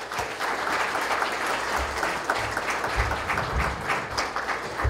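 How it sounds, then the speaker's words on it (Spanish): A congregation at a house of prayer applauds the worship ministry after its songs, with dense, steady clapping from a crowd that fills the room at an even level for several seconds. "fuertes palmas al ministerio que nos animaron con estos cantos."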